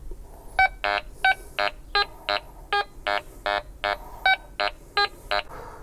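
A Quest X5 metal detector passing over iron gives a run of short, choppy, unstable electronic beeps, about a dozen bursts in an uneven rhythm with shifting pitch, loud and close.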